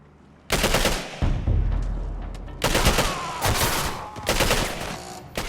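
Standard weapons firing in the video game Singularity during combat in a docks area, several loud bursts of rapid automatic gunfire with short gaps, close and dense, with echoing tails.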